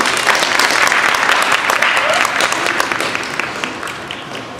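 Audience applause for a singer at a children's grief awareness event in Northeast Ohio, a full, lively burst of many clapping hands that gradually thins out.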